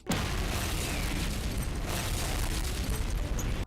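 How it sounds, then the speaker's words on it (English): A bomb going off in the video game GTA 3, a loud sustained rumbling blast of dense noise that holds steady for several seconds before cutting off abruptly. "Also, is that a bomb?"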